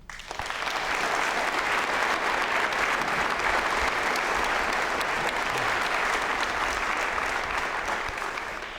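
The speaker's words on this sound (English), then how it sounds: "Please feel free to rise, clap, and cheer for these organizations as I announce them in alphabetical order." An audience at a Vietnam War Veterans Day ceremony applauds and cheers for veterans organizations, a sustained, even wash of many hands clapping that swells in and holds steady before easing slightly at the end.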